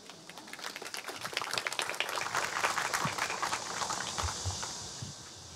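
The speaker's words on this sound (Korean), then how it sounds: "큰 박수로 모시겠습니다." An audience applauds at an outdoor unveiling ceremony for a memorial square, steady applause swelling and holding for several seconds, heard from a moderate distance.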